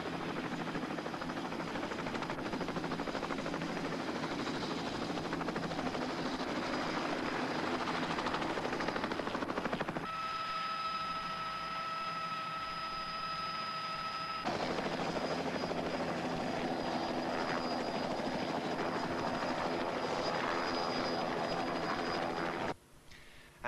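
A helicopter roars steadily overhead, its rotor chop and engine whine continuous and loud throughout.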